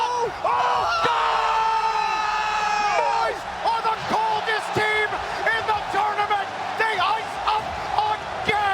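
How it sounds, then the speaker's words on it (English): Arena crowd at a Rocket League esports major roars and whoops loudly and continuously, with sustained cheering swelling throughout, dense and close, with announcer-like voices mixed in. "the crowd went crazy"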